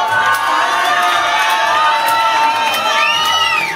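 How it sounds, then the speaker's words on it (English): Cheering and shouting from a live audience at a comedy hypnotist show in a working men's club, a loud, continuous crowd roar with whoops and higher children's voices, steady throughout. "Come on, cheer him on, everybody."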